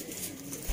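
Pigeons cooing in a group of 25 birds kept for sale on a Sialkot-style rooftop, a brief soft murmur under a hissy, noisy background.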